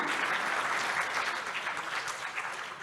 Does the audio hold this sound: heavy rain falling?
no